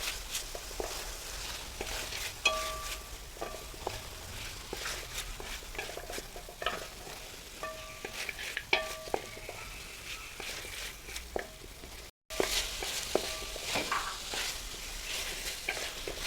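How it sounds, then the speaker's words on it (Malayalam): Crushed ginger and garlic sautéed in a pan for chicken mappas, giving a steady close sizzle broken by repeated stirring scrapes and spoon taps, with no talk. "ഇതൊന്ന് അതിലിട്ടൊന്ന് വഴറ്റിയെടുക്കുക."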